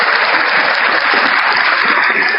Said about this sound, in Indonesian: tepuk tangan dulu dong sekali lagi